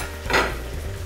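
Broccoli, mushrooms and onion hit a hot oiled pan, giving a short burst of sizzle with a light clatter of stirring, close and fairly loud.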